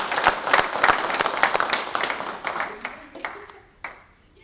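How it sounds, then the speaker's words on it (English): Audience applause at a company meeting, a dense burst of many hands clapping that is loud at first and then thins into scattered claps and fades out over a few seconds. "So give a round of applause."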